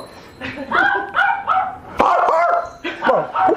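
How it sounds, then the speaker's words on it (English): A dog gives several quick yappy barks and whines, close by, mixed with people talking over it. "No, that's a dog."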